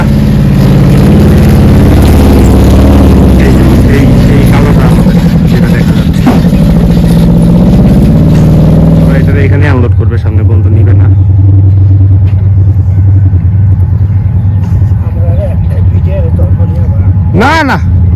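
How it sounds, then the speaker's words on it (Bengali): A truck loaded with cows rumbles loudly up close, its heavy engine droning and idling with a low, steady roar while people talk over it, then the engine note drops and quieter background remains. "এই যে আসতেছে ট্রাক ট্রাকে অনেক গরু"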